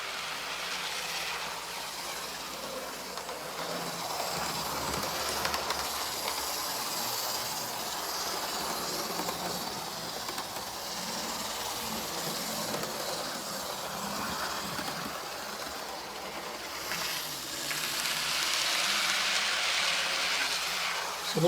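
A small model train rumbles steadily over track ballast, a continuous gritty rolling noise with faint clicking, growing slightly louder toward the end.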